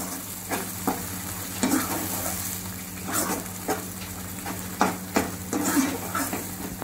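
Egg biryani masala stir-fried in oil in a pan: a steady close sizzle with repeated scraping stir strokes at an irregular rhythm, no talk.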